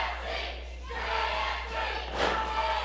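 A crowd at a wrestling show chants and cheers without letup, loud and close. The roar swells in waves, with one sharper surge near the end.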